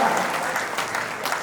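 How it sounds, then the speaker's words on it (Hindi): A short burst of audience clapping at a Hindi poetry gathering, a dense, steady patter from a crowd, fairly loud and close, with no voices over it. "एक बार तालियां बजाकर मुझे आदेश दे दो"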